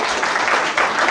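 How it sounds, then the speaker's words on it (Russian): A short burst of applause from an audience at a hackathon awards ceremony, a steady wash of clapping. "Аплодисменты."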